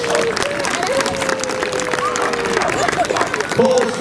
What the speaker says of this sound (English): Let's have a big round of applause for Kuba then,